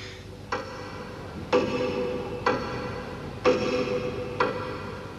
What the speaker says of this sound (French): C'est véritablement la pendule la plus grosse et la plus laide que j'ai jamais vue dans une chambre.